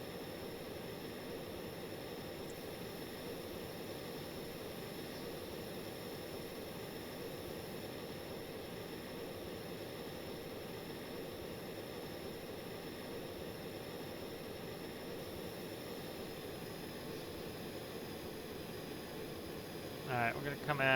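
Steady, droning turboprop aircraft engine from a plane built and flown in the game Stormworks, a constant broadband roar holding at an even level throughout with no talk.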